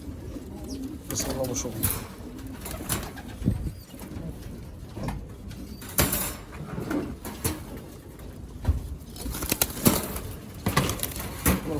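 Pigeons coo and shuffle inside a loft of breeding birds and squabs, soft repeated calls and occasional wing flutters scattered through the scene while someone speaks over them.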